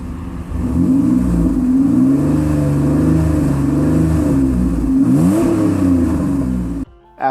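A 1998 Pontiac Firebird V6 idles with a steady exhaust drone, then rises through a couple of rev swells and settles, close and loud throughout before cutting off abruptly.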